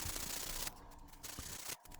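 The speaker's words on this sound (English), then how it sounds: "And then start sanding it down." Continuous close scratchy rubbing of sandpaper smoothing a nail, with brief dips in the gritty sound between strokes.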